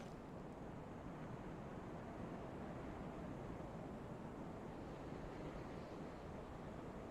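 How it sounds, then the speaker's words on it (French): Steady rushing wind sweeps across a cold, bleak cemetery in the video game Dark Souls 3, a dense broadband whoosh holding level throughout with no music or voices. "Juste le son du vent."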